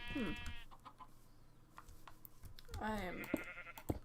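A video game sheep bleats twice, once at the start and again near the end, with faint chicken clucks and a brief spoken voice between the calls.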